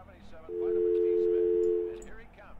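A telephone tone in the horror video game The Shattering, a single steady electronic hum held for about one and a half seconds, loud and clear over quiet ambient game noise.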